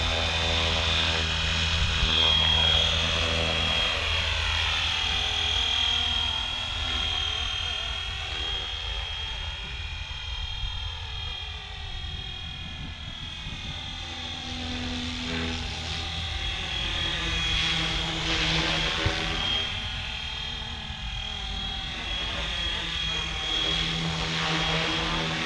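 A FlyWing FW450L V3 RC helicopter in flight outdoors, its rotor and motor giving a steady loud whine and buzzing drone that shifts in pitch as it moves and hovers nearby, continuing unbroken throughout.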